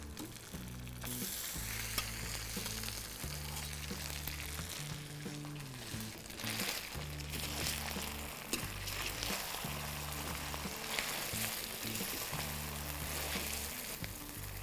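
Cooked rice and dal with cashews tipped into hot ghee for gulkand pongal give a steady, close, crackling sizzle and frying hiss, with low humming underneath and no talk.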